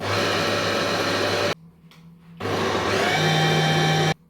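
A kitchen food processor grinds peanuts into peanut butter, its loud motor whirring steadily, stopping for about a second, then running hard again before cutting off.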